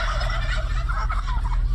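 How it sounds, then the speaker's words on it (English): Turkeys gobbling in a steady, overlapping warble that fills the whole moment, a flock calling loudly together with no talking. "the turkeys are repeating him."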